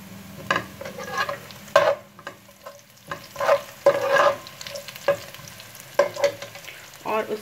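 Cumin seeds sizzle in a pan of lightly fried onions for aloo ka bharta, with repeated scraping stirs and bursts of crackling frying at close range and no voices.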